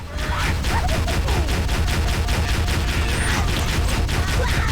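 Steady, fast-rhythm turret gunfire in Halo: Combat Evolved, loud and continuous with evenly spaced heavy shots for several seconds, no talk over it.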